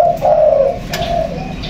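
A spotted dove coos close and loud, a soft low hooting call in two short phrases with a brief pause between, over faint background noise.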